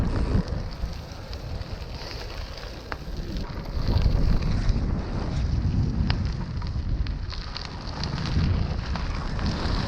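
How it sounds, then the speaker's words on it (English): A steady headwind roars and buffets against a cyclist on a long winter road ride. The dense, blustery rush is loud and continuous throughout, with no voices. "It's just headwind all the way."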